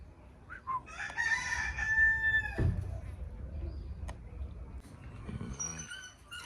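A dog whimpers and gives short high yelps close by, with a rooster crowing and hens clucking in the background.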